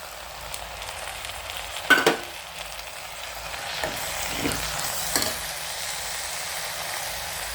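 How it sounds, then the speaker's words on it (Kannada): Ground onion and garlic paste sizzles and fries in a pan while pulao is being prepared, with steady frying hiss and a few stirring scrapes and clatters, close by with no talking. "ಈರುಳ್ಳಿ ಬೆಳ್ಳುಳ್ಳಿ ಇದನ್ನೆಲ್ಲ ನಾನು ಮಿಕ್ಸಿ ಮಾಡ್ಕೊಂಡಿದ್ದೀನಿ ಇದು ಕೂಡ ಇದಕ್ಕೆ ಸೇರಿಸ್ತೀನಿ"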